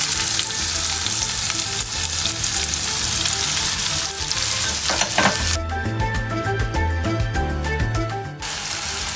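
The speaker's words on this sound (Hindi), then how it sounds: "अब मैं इसमें ये प्याज ऐड कर दूँगी" Onions frying in a pan over medium heat, a loud dense sizzle with stirring, swelling briefly as something is tipped in partway through.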